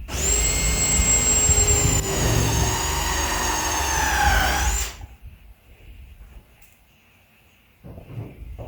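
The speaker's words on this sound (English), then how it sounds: "we're going to drill a hole right there" A power drill whines steadily at high speed for about five seconds drilling a hole in a plastic IBC tote, then stops, leaving quiet handling noises.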